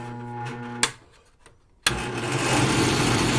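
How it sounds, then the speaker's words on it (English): A machine hum cuts off with a click, then after a quiet gap another click starts a loud, steady whirring grind of a drill press spinning a sanding disc. "right now I've got a sanding disc on it and it works great. Turn it on"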